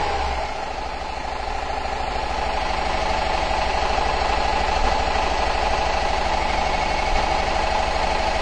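A Subaru engine with a misfire holding steady around 1,500 RPM, a loud, close, continuous rough drone with a faint irregular stumble throughout.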